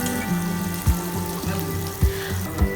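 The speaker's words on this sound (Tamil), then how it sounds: "வாஷ் பண்ணி எடுத்து வச்சுருக்கிற ப்ரான்ஸை போட்டு ஒரு 3லேருந்து 4 நிமிஷத்துக்கு ஃபுல் ஃப்ளேமில் வச்சு வதக்கிக்க போகிறேன்" Washed prawns sauté in a pan over full flame with a wet, steady sizzle, broken by periodic dull knocks from stirring at roughly even intervals, close and clear.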